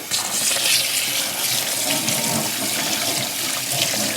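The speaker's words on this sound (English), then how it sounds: "Cold water." Cold water runs from a kitchen tap into a cooking pot for spaghetti, a steady, loud, hissing gush that carries on without a break and with no voices over it.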